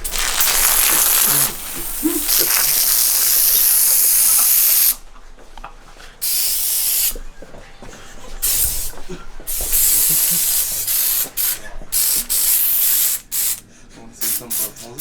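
An aerosol spray can sprays fake blood on a Lamborghini Urus at Halloween, making long loud hissing bursts with short pauses, close to the mic, with laughter and voices mixed in.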